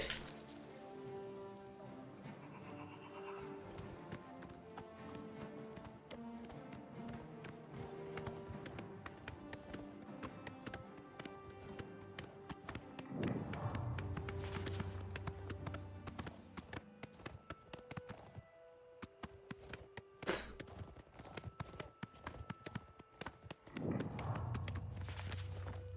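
Horse hooves clip-clop steadily in a video game as the rider's horse walks, a regular rhythm sitting under game music with occasional spoken interjections.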